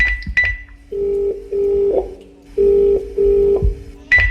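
A phone is dialed to call a father: a run of distinct keypad tones, several steady beeps in quick succession with short gaps, loud and close, with no voices.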